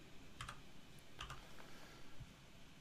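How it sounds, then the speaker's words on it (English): Typing on a computer keyboard while entering a spreadsheet cell range, a few soft, quiet key clicks in small clusters over a faint background hiss. "So I'm just going to type in B4"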